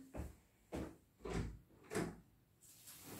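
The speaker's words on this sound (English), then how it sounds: "I will open the door just a moment." A door being opened indoors in a home painting workspace: a series of four or five soft knocks, clunks and scrapes spaced about half a second apart, quiet and close, ending in a brief hiss.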